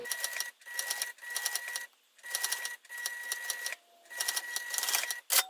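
A domestic sewing machine stitches two fabric pieces of a wristlet together a few stitches at a time, in short mechanical bursts of rapid whirring separated by brief pauses as the fabric is readjusted, heard close and alone.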